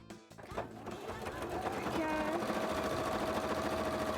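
A sewing machine stitches through thick, squishy fleece layers, starting up and then running at a fast steady mechanical rhythm, with a voice talking over it early on.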